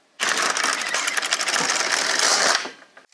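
An LK150 knitting machine carriage slides across the needle bed, giving one loud, close, continuous rattling whir of about two and a half seconds that stops abruptly.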